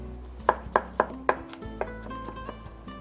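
Sharp knife strikes on a cutting board while raw chicken is sliced into long, thin strips, about eight crisp chops spaced roughly a quarter second apart, then slowing and fading, close and clear with no talk.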